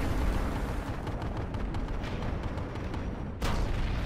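Rapid gunfire and heavy booms from a large PlanetSide 2 battle, dense and continuous throughout, with several sharp cracks and a louder blast near the end.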